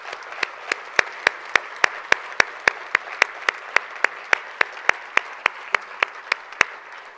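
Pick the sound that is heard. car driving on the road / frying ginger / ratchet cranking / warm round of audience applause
warm round of audience applause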